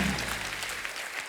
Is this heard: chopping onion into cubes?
no